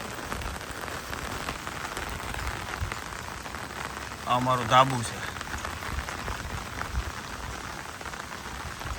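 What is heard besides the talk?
rain falling on a rooftop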